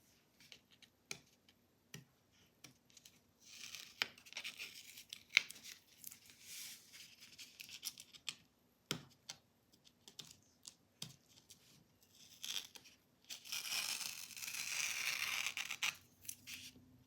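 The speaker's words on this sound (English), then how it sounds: "I'm ready to take off the frisket and take off the tape" Frisket and masking tape peeled off a watercolor painting: soft intermittent ticks and crackles early on, then a longer, louder ripping peel near the end, close and fairly quiet with no talking.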